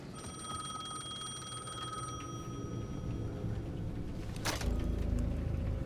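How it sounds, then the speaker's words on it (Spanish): A payphone in Alan Wake II rings with a bright electronic trill over a low ambient hum, fading after a couple of seconds before a sharp click and a deeper rumble. "The payphone at the edge of the plaza was ringing again."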